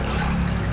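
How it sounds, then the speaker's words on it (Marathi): Water pours steadily and fairly loudly into a pot of mixed rice for Maharashtrian masale bhaat, a brief continuous splashing rush with no talk. "आता आपण ह्यामध्ये पाणी घालूया"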